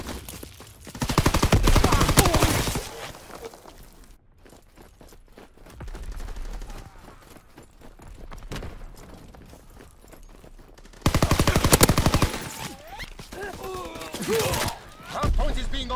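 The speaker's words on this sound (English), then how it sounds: "Fighter aircraft ready for strafing run." Fighter aircraft strafing run in a video game, long bursts of rapid rattling gunfire in two heavy stretches, with quieter shots and a voice in the gaps.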